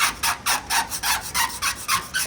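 Rhythmic back-and-forth scraping of a slightly bent razor blade over a paint run on a hard surface, about ten close, even strokes in quick succession.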